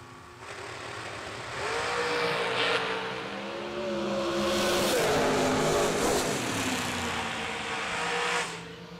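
Dragsters race down a drag strip at a motorsports event, engines roaring and sweeping in pitch as they pass, loud and sustained with a dip in the middle before fading near the end.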